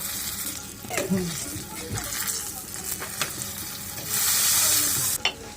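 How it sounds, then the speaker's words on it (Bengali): Slices of eggplant fry in a pan while a spoon presses them down again and again: a steady close sizzle with soft scraping taps, and the hiss swells loudly near the end. "ঢাকনা উঠিয়ে একটা চামচ দিয়ে একটু চেপে চেপে দেবো একটা চামচের সাহায্যে বারবার একটু চেপে দিলে বেগুনগুলো খুব তাড়াতাড়ি ভিতর সেদ্ধ হয়ে যাবে"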